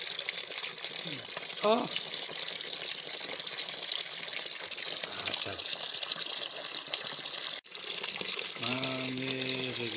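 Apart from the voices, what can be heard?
tap water flowing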